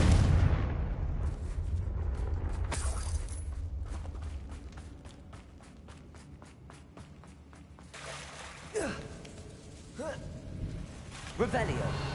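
Confringo blasting spell explosions in a Harry Potter video game: a booming blast at the start, then a run of rapid rhythmic clicks and several sharper bursts later, mostly mid-distance, with a voice speaking at times over the effects.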